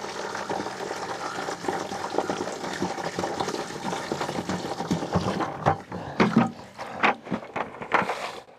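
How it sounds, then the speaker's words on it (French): A bucket scoops water from a container, giving a steady, close sloshing and gurgling pour that breaks into splashes and knocks toward the end. "Je ne sais pas si je vais pouvoir sortir l'eau comme ça."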